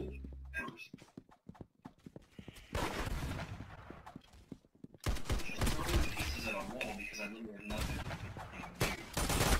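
Rapid gunfire from the pepper gun in the Roblox game Arsenal, bursts of shots layered with game sounds and excited talk, getting louder and denser in the second half.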